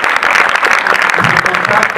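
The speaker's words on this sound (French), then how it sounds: "D'ailleurs, applaudissez-les." Close, loud applause from a film screening audience honoring the film's producers, dense steady clapping filling the whole moment without voices.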